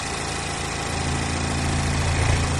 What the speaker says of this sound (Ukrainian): Запустили двигун, під кришечку на все сухенько, повністю порядок.